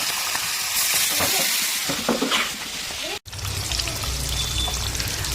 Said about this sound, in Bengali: তো দেখুন তেলটা এখন গরম হচ্ছে তো তেলটা গরম হয়ে গেলে প্রথমে আমাদেরকে মাছগুলোকে ভেজে তুলে রাখতে হবে